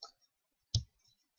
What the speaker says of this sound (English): either double click or click and drag